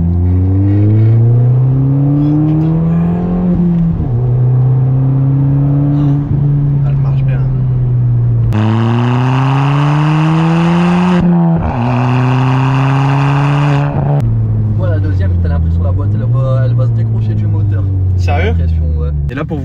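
Inside the cabin of a staged Ford Fiesta ST Mk7.5 carrying four people, the engine drones loudly and steadily, its pitch climbing through repeated revs and gear changes, with a sharper, harder surge in the middle.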